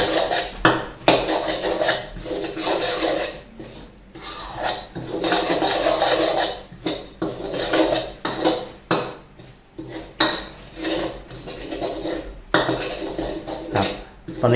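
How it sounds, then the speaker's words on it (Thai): Five-spice powder and cinnamon stir-fried in a pan for a red pork sauce, with a utensil scraping and rubbing loudly against the metal in repeated uneven strokes, near and continuous. "คลุกเข้าผัดให้เข้ากันเลยนะครับ เข้าผัดจนเหลืองนะครับ"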